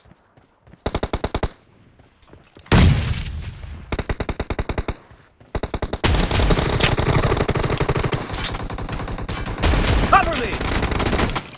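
Game gunfire from an S686 shotgun and a Groza rifle comes in loud, close bursts and rapid strings of shots, broken by short pauses, while a voice shouts a brief callout.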